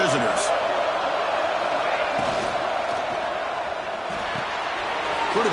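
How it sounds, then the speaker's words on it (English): A football stadium crowd roars through a playoff game, a dense, sustained wall of cheering and noise with a few sharper shouts rising briefly out of it. "Listen to the crowd energy here in the early going."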